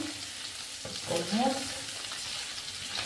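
Ethiopian shekla tibs, meat frying in a clay pan, gives a steady, dense sizzle throughout, with a faint voice briefly murmuring in the middle.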